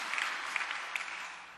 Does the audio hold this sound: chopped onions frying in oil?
no